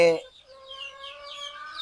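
Caged chickens cluck close by, a short burst at the start followed by drawn-out, quavering calls from the flock.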